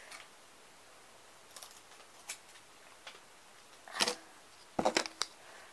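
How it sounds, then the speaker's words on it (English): Cheap Dollar Tree scissors snip through thin sticks in a quiet room: sparse, crisp clicks and snips, a few isolated cuts early and a quick louder cluster near the end, close to the listener. "These ones are better for cutting sticks."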